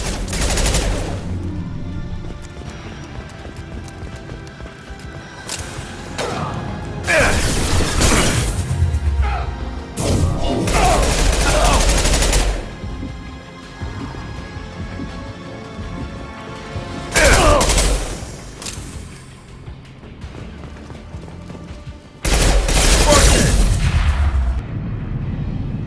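Bursts of gunfire in a sci-fi firefight in the video game Mass Effect 2, loud volleys of shots in several clusters separated by quieter mechanical clatter, with no talking.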